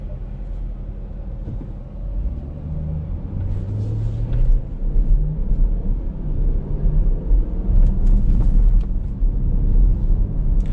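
A 2018 Dodge Durango R/T Brass Monkey AWD rolling over a rough street, with a steady low road rumble and several dull thumps and knocks as the tires hit bumps, heard from inside the cabin.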